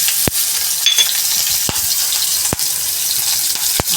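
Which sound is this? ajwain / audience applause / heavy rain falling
ajwain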